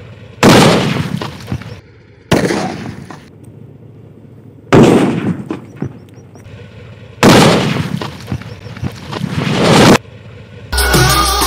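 Several loud, sustained booming bursts separated by short pauses, each a broad rumbling roar that swells and cuts off, like heavy muffled blasts, from a large sutli firecracker exploding underwater.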